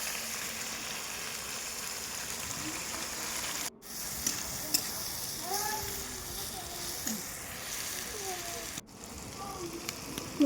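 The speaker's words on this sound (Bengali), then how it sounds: "কাঁচা লঙ্কা, পেঁয়াজগুলো দিয়ে দেবো। একটু লাল লাল করে ভেজে নেব।" Onions and green chillies frying in oil with cumin, bay leaf and dried red chillies for a mutton dish: a steady, fairly quiet sizzle running throughout, with occasional stirring scrapes.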